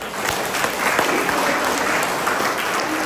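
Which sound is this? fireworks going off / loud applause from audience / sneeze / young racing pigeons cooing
loud applause from audience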